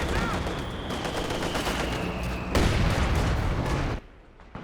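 Anti-tank guns fire at a T-34-85 tank in the Company of Heroes 2 video game. Loud, unbroken combat noise of shots and booms is punctuated by one sharp heavy blast midway before the din suddenly drops away near the end.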